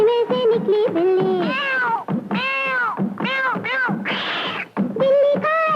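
Loud, close cat meows repeated in rapid succession, each rising and falling in pitch, with short gaps and one harsher, noisier cry.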